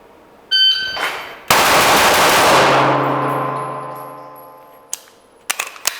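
An electronic timer beep is followed by a Bill Drill, a rapid string of pistol shots that blur into one loud, echoing roar and then fade, with a few sharp metallic clanks near the end.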